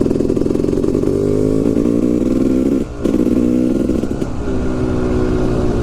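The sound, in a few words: Yamaha YZ 250 two-stroke motorcycle engine revving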